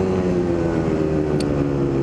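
A Kawasaki KDX250 dirt bike engine idles steadily once warmed up, a close, continuous drone with strong harmonic hum that holds level throughout, with no other sounds over it.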